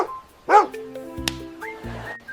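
A dog gives a few short yips and barks with a brief whimpering tone, spaced out over a quiet background, close and moderately loud.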